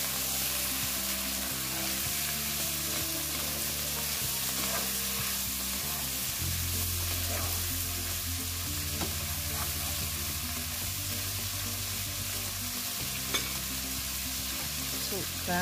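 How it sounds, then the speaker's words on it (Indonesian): Boneless beef ribs stir-fried briefly in a pan give a continuous broad sizzle with occasional light utensil clicks, steady and close, and a low humming background underneath, with no talking. "Masukkan daging iga sapinya, kemudian ditumis sebentar."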